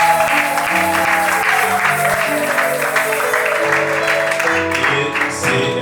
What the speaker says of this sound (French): Maman Esther, est-ce que vous pouvez applaudir?